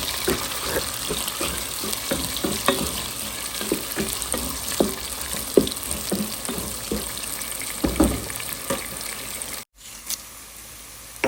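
Sliced onion frying in oil with a little salt in a pan, a steady close sizzle broken by soft stirring scrapes and taps, briefly cutting out near the end.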